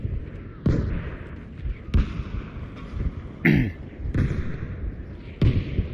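An artillery strike in a video game, with a series of heavy explosions booming at irregular intervals, each a deep thud with a rumbling tail, loud and fairly close over a constant background rumble.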